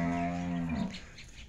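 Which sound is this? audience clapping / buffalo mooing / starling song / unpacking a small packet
buffalo mooing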